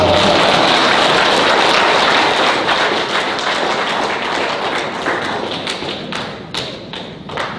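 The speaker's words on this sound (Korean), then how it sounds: "박수. 이럴 때 박수 줬어요." A seminar audience in a workplace training session bursts into dense, sustained applause, loud and close, with many overlapping claps that gradually thin toward the end.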